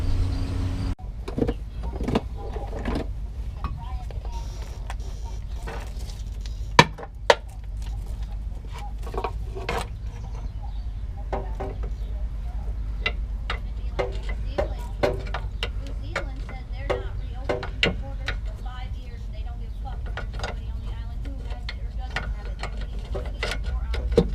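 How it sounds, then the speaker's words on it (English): Wrench and ratchet clicks with metallic clanks from unbolting the rack and pinion under a 2002-2007 Buick Rendezvous during a 4T65E transmission removal, scattered irregular taps and ratcheting close up over a steady background hum. "now I'm going to start by unbolting the rack and pinion and tie it up out of the way"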